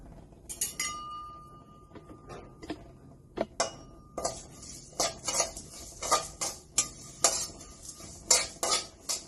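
Flattened rice (aval) roasts in a pan while a spoon stirs it, with repeated scrapes and metallic clinks against the pan and a soft sizzle underneath, close and fairly steady.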